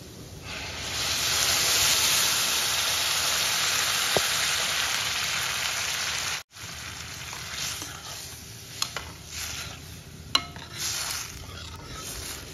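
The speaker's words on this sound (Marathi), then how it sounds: "मग आपण याच्यामध्ये उकळलेलं पाणी घालायचं।" Boiled water is poured into dry-roasted semolina for rose-petal suji halwa, giving a loud, steady sizzling hiss that cuts off abruptly, then returns more faintly with a few sharp clinks of a utensil against the pan.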